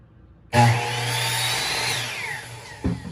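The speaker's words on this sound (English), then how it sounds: "that's what he's using, a miter saw just to cut the two sides" A miter saw cuts wood for a small advent calendar frame. The motor spins up abruptly, whines steadily through the cut and then winds down, with a short knock at the end.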